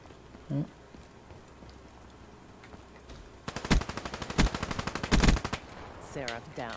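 Rapid automatic gunfire in Black Ops 3 from a high-capacity gun, a few dense close bursts after a quiet stretch, with faint game sounds around and a brief voice at the start and end.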